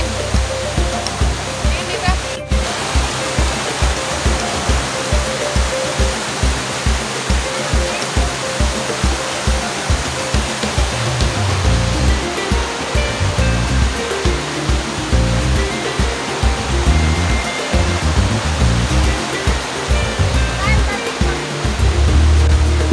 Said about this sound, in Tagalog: Na-enjoy mo itong El Salvador Falls ng Soproño Española